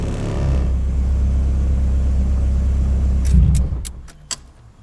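Nissan Cefiro with a swapped K24 engine idling and driving with a steady low rumble that swells briefly before dropping away, followed by a few sharp metallic jangles near the end.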